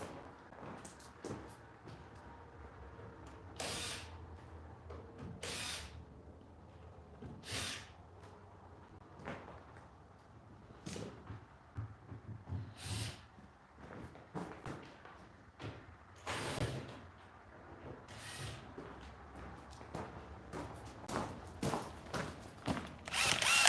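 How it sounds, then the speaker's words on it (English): A cordless drill gun drives screws into lumber in a series of short, loud whirring bursts with quiet gaps between them, repeated about a dozen times in an ironworks shop, with no talking. "Grab this drill gun, grab a couple screws out of them"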